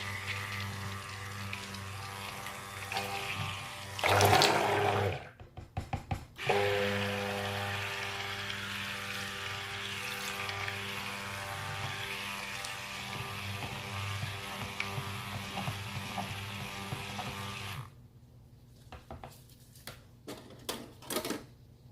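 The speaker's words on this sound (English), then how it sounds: "let me blend this up and get this thing going" A stick blender whirs through cold process soap batter of oils and milk, a steady motor hum with rattling and clicking, starting and stopping in bursts, close and moderately loud with no talking.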